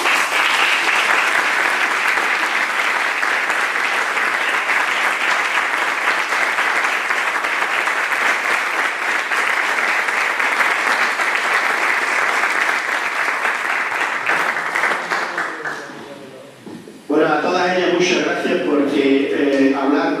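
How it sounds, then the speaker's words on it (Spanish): Audience applause at a book presentation, a dense and steady wash of clapping that holds loud for about fifteen seconds, then thins and drops away before voices speak over the room. "Yo pido un aplauso para todos."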